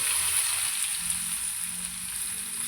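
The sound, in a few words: chili, curry leaves and onion frying in a pan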